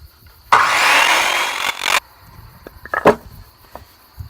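A saw trims the protruding ends of timber frame floor joists cut from band-milled wood. One loud cut of about a second and a half is followed by quieter knocks and handling sounds.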